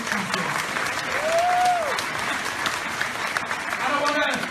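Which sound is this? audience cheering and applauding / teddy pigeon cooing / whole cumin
audience cheering and applauding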